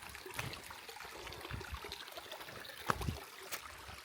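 Clean river water trickling and gurgling over rocks in the Gondar countryside, soft and continuous with small splashes, heard alone without talk.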